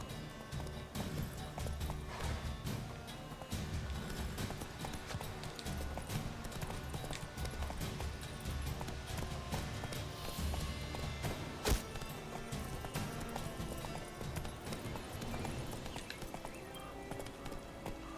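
Roach the horse in The Witcher 3: Wild Hunt on PS4 trots along with a steady, continuous clip-clop of hooves, moderately close, with a brief louder knock partway through and faint game ambience underneath.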